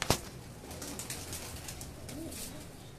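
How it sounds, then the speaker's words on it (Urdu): Breeder pigeons kept on a rooftop coo softly in a steady low murmur, with a sharp flutter or knock at the start and faint chirps scattered throughout. "یہ بھی بریڈر کبوتر ہیں"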